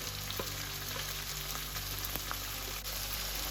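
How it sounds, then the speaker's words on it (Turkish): Steady sizzling of chicken sautéing in a hot frying pan, a continuous crackle with occasional sharper pops and light stirring clinks. "tavuklarımı tavama ekliyorum ve sotelemeye başlıyorum."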